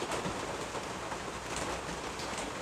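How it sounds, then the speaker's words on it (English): Steady light rain falls outdoors in a soft, even hiss that holds at the same level throughout, with no thunder or other sounds breaking through. "someone ordered rain"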